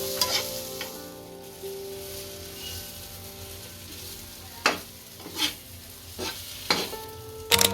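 Potatoes fry in a spiced oil tempering for Sindhi aloo tuk, a soft steady sizzle broken by several sharp scraping stirs of a spoon against the pan.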